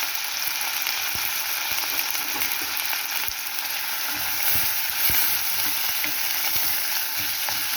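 Onions and tomatoes fry in a pan for a traditional Tamil pepper curry, making a steady, close sizzle with occasional stirring clicks and scrapes, and no voices.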